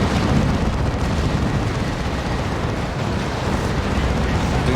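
Heavy, continuous battle din from a Warhammer 40k: Dawn of War 2 3v3 match, with corrosive shots, a Venom Cannon Carnifex and a Predator firing amid rolling explosions, loud and dense with no pauses.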